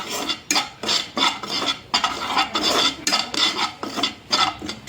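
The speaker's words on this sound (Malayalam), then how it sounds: "ഇനി കുറച്ച് മീറ്റ് മസാല ഇട്ടിട്ടുണ്ട് അതും കൂടി ഒന്ന് മിക്സ് ചെയ്യണം" Meat masala spice powder being stirred and scraped in a hot pan for a Kerala-style intestine (kudal) dish, a steady run of close, rhythmic metal-on-pan scraping strokes with no voices.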